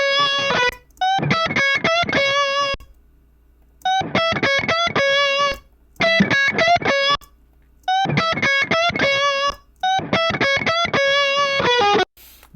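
Distorted electric guitar strung with 9-42 gauge strings plays repeated bluesy phrases, bursts of picked notes and bends separated by short pauses, loud and close.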